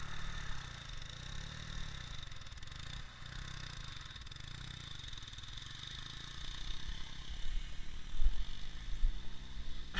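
A Ural motorcycle engine chugs steadily at low revs while riding through mud, with a throbbing, uneven note and clattering that grows louder near the end.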